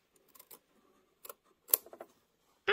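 Scissors trim embroidered fabric close to the stitch line, giving a few faint, scattered snips and clicks with quiet handling between them, then a louder rustle at the very end.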